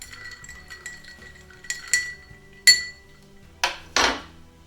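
Rum cocktail made with Barrel and Cane Rum, stirred in a glass, giving scattered clear clinks of ice and spoon against glass, with a few sharper knocks near the end, close and moderately loud.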